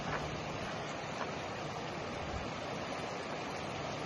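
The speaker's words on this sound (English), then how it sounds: "Time to touch the Firehole River." The Firehole River in Yellowstone National Park flows in a steady, broad rushing wash of moving water, constant and even with no voices.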